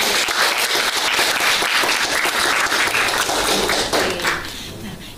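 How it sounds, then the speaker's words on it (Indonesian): Classroom students clapping their hands together, loud and fast clatter of many pairs of hands that runs steadily and then thins out toward the end. "Mari kita tepuk tangan untuk diri kita sendiri"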